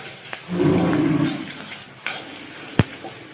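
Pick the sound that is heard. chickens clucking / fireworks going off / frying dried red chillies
frying dried red chillies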